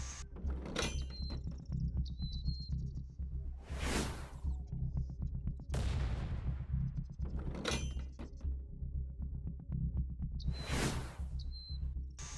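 Periodic shots from a slow-firing weapon in Night of the Dead, three or four heavy bursts spaced several seconds apart over a steady ambient game hum, with no talking.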